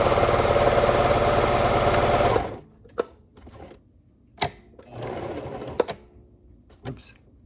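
A Pfaff sewing machine stitches a buttonhole in a fast, loud mechanical whir that stops abruptly, followed by a quieter short burst of stitching and a few sharp clicks and knocks.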